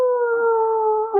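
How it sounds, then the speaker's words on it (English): A single wolf howl, a close, clear, sustained tonal wail holding steady pitch before a small dip and rise at the end, heard alone. "Ooh, Hal, you know what that wolf howl means?"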